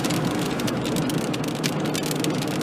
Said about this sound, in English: Wow, that rain is really picking up.